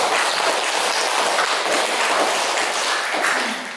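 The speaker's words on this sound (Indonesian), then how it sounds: "Berikan tepuk tangan untuk semua kelompok" A classroom of students claps for all the groups that presented, a steady, dense patter of many hands that holds evenly for a few seconds and then starts to fade near the end.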